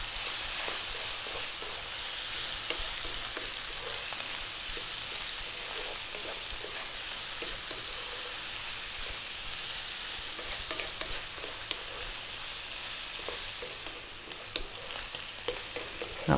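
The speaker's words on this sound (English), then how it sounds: "We're going to stay on this medium heat and go for about another 5 minutes or so." Ethiopian meat and potato stew fries on medium heat with a steady, fairly quiet sizzle, broken by repeated scraping stirs throughout.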